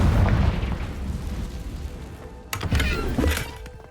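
A Confringo spell blast in Hogwarts Legacy booms loudly at the start and rumbles away, followed by a second burst of crackling, debris-like pops around the midpoint of the clip.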